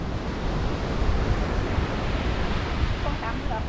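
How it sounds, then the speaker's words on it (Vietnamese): Sea waves washing onto a beach at Luanda around midday, a steady broad roar of surf with wind, continuous and fairly loud, no voices over it. "Chủ yếu là nghe thấy tiếng sóng biển."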